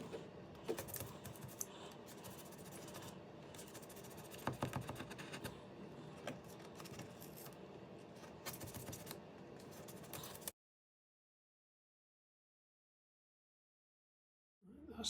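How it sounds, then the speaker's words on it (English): Scalpel cutting out a model railway part, a close, quiet run of small scratchy ticks and scrapes for about ten seconds, then sudden silence. "I've got my scalpel, should hopefully be able to mark it just like that and then cut it out."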